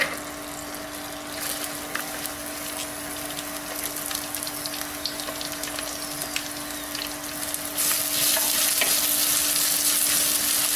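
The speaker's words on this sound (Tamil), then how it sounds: "வெங்காயம் நல்லா ரோஸ்ட் ஆகட்டும்." Onions sizzle and crackle steadily in a hot pan, a constant hiss with small pops, close up, growing a bit louder near the end.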